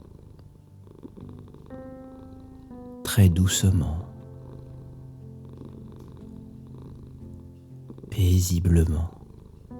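A domestic cat purring in two loud, rumbling bursts separated by a few seconds, set over soft sustained tones while a calm voice speaks gently.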